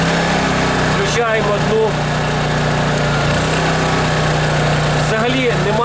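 A Champion 73001I-E 3.5 kW inverter generator runs with a steady, loud engine drone throughout, and someone speaks briefly over it.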